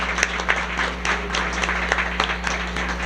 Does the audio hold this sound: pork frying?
no